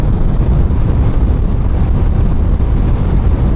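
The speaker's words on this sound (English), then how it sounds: "it is pretty windy." Strong wind buffets the microphone continuously beside a Honda Rebel 1100 motorcycle, a loud, steady low rumble with no talk.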